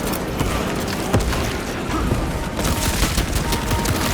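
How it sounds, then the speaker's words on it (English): Dense, loud battle din in Warhammer 40,000: Space Marine 2, with a frag grenade explosion amid continuous rapid gunfire filling the whole stretch without pause. "Frag grenade out."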